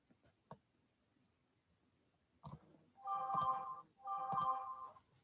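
Text-message notification chimes from a phone, two bright tonal chirps about a second apart after a couple of faint clicks, fairly close and with no talk over them.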